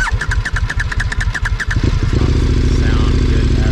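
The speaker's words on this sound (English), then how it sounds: "Engine failure." A failing KTM 1290 Super Adventure R motorcycle engine cranks in rapid, evenly spaced starter pulses, then catches and settles into a rough, loud idle close by.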